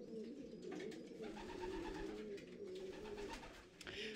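Racing pigeons coo softly and repeatedly in low, rolling calls, close by, with faint rustling and background noise around them.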